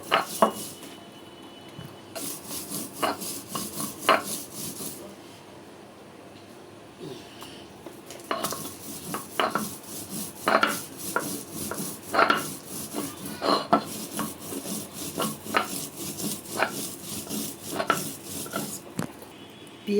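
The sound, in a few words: grinding chilies on a stone slab (pata) for bharta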